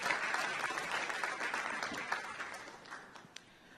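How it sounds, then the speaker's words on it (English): A crowd at a live event gives a round of applause, starting as a full wash of clapping that thins and fades toward the end with a few last scattered claps. "Can we please give a round of applause again for that innovative thinking?"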